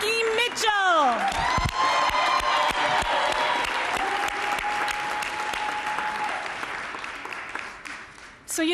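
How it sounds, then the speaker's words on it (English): Loud audience applause and cheering at a public reparations hearing, with whoops and shouts rising over steady clapping before it fades out near the end. "Let's give another round of applause for Frankie Mitchell."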